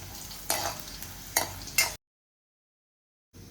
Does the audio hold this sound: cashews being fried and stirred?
yes